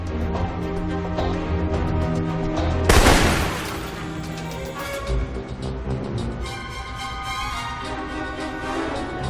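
Rifle fire in the video game Alpha Protocol, a burst of sharp shots and a bang amid a dense game soundtrack and effects, no speech.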